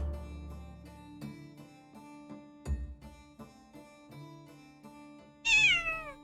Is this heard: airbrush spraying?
no